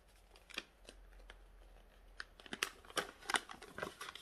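Paper pumpkin-carving templates rustle and crinkle in short, quiet bursts, with a few sharper snips and crackles close by.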